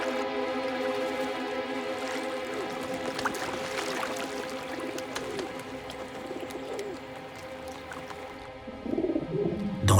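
Pigeons coo softly by a river, low repeated calls over a faint steady background hum, with a slightly louder rustle near the end.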